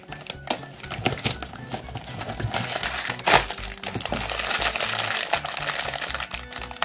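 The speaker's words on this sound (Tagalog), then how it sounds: "Buksan na natin tong second box." Pop Mart Hacipupu blind box being opened, plastic packaging crinkling and rustling close up in bursts, with one sharper crackle partway through and no talking.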